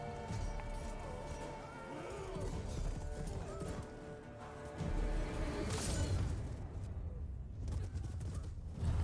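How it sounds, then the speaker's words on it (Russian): Horse neighing with clopping hooves in a Witcher 3 cutscene where the horse is cut down, mixed with game music and effects and steady at moderate level throughout, briefly swelling toward the middle. "Там лошадь разрубил."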